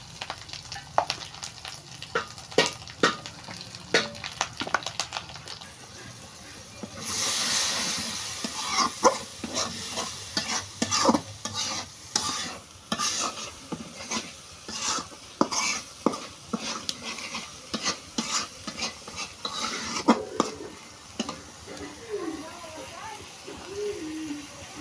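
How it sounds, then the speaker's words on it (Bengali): Spices frying and being stirred in a pan for a chana dal and egg curry, a steady sizzle broken by repeated scraping strokes and a few clinks, with a dog barking faintly now and then in the background. "আমি মশলাগুলো কষিয়ে নিতেছি।"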